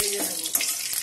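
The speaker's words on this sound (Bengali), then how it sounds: "আগে আলুগুলো ভেজে নেব।" Potatoes frying in a pan give a brief, soft sizzle with light stirring noise, heard close and alone for about a second.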